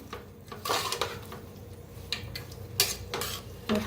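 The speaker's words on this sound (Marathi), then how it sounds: "थोडं मिक्स करून घेते" A spoon stirs dill greens with chopped chillies, salt and water in a pot, producing a few scraping, clinking strokes against the metal, close and moderately loud with brief gaps between them.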